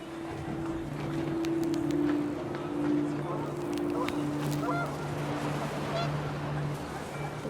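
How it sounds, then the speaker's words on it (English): Panicked geese honk in the What Remains of Edith Finch video game, with repeated nasal honks over a windy, rumbling outdoor bed and sustained low tones, sounding moderately close and continuing throughout. "The wind picked up, and panicked geese appeared and quickly went."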